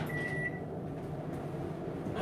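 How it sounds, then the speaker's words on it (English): Microwave oven running while steaming lemon, a steady low hum and whir with a brief faint tone near the start, fairly quiet and without talk. "this, I put this in my microwave for 2 minutes."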